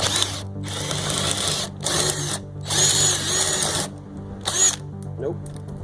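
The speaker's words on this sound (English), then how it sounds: "So I'm just going to drill this side out." A power drill bores out a carriage bolt on a mechanical arm-extension build, whining in several loud bursts separated by short pauses, with a motor revving and slowing between runs.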